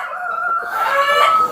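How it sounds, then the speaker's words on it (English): A large Brahma chicken on a farm makes a loud, drawn-out clucking call up close, rising and wavering over about a second and a half with no talking. "Look at the size of the chicken."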